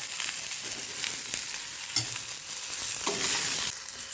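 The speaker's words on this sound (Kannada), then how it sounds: "ಅಷ್ಟರಲ್ಲಿ ನೋಡಿ ಬದನೆಕಾಯಿ ಫ್ರೈ ಆಗಿದೆ" Oil sizzles steadily in a pan as eggplant fries, with a few scraping stirs of a spatula and no talking.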